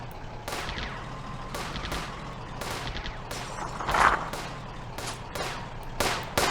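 Gunfire in a World War II real-time strategy video game, rapid bursts of sharp shots and automatic fire in an irregular fusillade, loud and close, with no talk.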